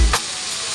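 Dried bamas fish frying in a pan, a steady soft sizzle running through the short moment after a brief louder stir or clatter at the start.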